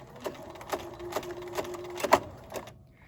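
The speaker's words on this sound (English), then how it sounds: "I'm going to sew all the way to the end at a 1/4 inch seam allowance" Sewing machine stitching a quarter-inch side seam on a fabric face mask, a series of quiet, evenly spaced mechanical thumps with a brief whir between them, close and alone.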